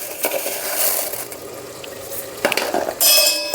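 Pasta cooking in sauce in a pot, stirred with a spoon so it scrapes and clinks against the metal, with soft sizzling and wet sloshing close by and no talk.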